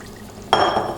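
Water poured into a pot for Haitian chicken stew with okra gravy; quiet kitchen hush, then a sudden splashing rush of liquid begins midway and continues steadily to the end, close and fairly loud, with no talk.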